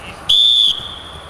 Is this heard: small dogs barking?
no